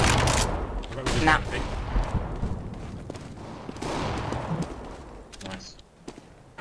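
Gunfire in the video game CS:GO, rapid bursts of shots crackling through a busy mix of game sounds, with players talking over it.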